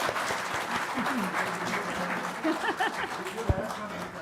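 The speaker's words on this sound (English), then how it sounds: "Please give a huge round of applause." Audience applause at a Tibetan Buddhism seminar following a panel session, a steady wash of clapping from a seated crowd with faint voices and a sharp knock near the end.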